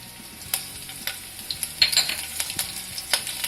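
Green chillies hitting hot oil in a kadhai for katori chaat, a close steady sizzle and crackle with sharp pops and stirring clinks, fairly loud and with no voices.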